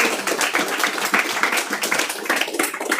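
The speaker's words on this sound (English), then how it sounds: "Let's give them all a round of applause." A round of applause for two debate groups at a medical journal club session, dense steady clapping from a small audience filling the whole moment without any voices.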